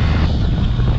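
Wind buffeting while riding a BMW R1250RS motorcycle, a brief, steady roar of rushing air mixed with low rumble, heard without any talking.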